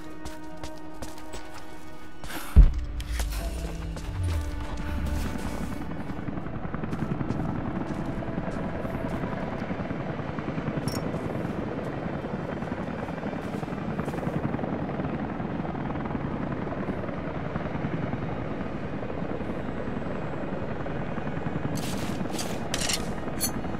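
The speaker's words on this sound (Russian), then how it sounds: "Последний вертолет ушел." Helicopter in the video game Rise of the Tomb Raider, its rotor thumping steadily and close after a sharp bang near the start, continuing at even loudness throughout with a few brief clatters.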